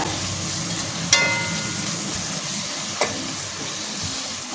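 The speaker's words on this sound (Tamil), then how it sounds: "எல்லாத்தையும் சேர்த்துட்டு ஒன்று சேர நல்லா வதக்கி விடுங்க" Ginger garlic paste and chopped tomatoes sautéing in a pan for tomato biryani, a steady close sizzle and hiss with a couple of sharp spoon scrapes or knocks against the pan, no voices.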